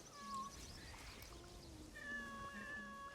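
Several cat meows in the video game Assassin's Creed, tonal and drawn out, coming in separate calls at a moderate level with a low game-ambience bed underneath and no talk.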